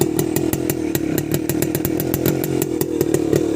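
A small go-kart engine, left standing for about a week, fires up after a push-start and runs at a steady, loud, buzzing idle with rapid even pulses, close by and with no voices over it.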